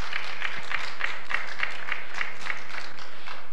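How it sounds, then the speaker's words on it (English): A church congregation claps together in a strong, steady rhythm of evenly spaced beats, loud and close, filling the room with no speech over it. "Give her a cheer."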